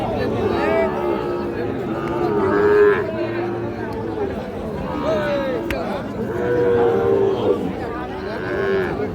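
Sahiwal bull calves low and moo repeatedly at Ambari cattle market, their drawn-out calls rising over steady crowd chatter and nearby talking.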